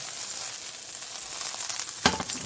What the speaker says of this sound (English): And then to that we're going to add a little bit of butter. Okay. We'll work this around in our pan.